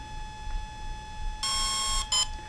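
An Exeed RC Proton ESC in programming mode gives electronic beeps, a long tone followed by a short one, loud and close against a faint steady hum.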